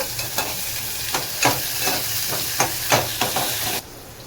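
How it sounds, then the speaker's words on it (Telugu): Onions fry in a hot pan with a loud, continuous sizzle and a series of sharp spatula knocks and scrapes. The sizzle cuts off abruptly near the end. "ముందుగా నేను ఇక్కడ ఆనియన్ అనేది కొద్దిగా పచ్చివాసన పోయేంత వరకు వేగాలి."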